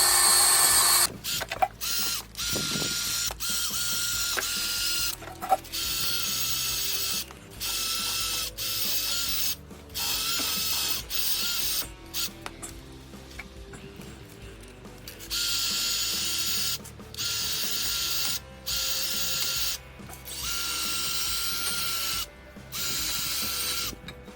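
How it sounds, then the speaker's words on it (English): A wire brush scrubs rust off the brake hub of a 2007-2013 Chevy Silverado during rotor replacement, giving repeated bursts of harsh, close scraping separated by short pauses, with no talking. "brush around here and get all the rust off."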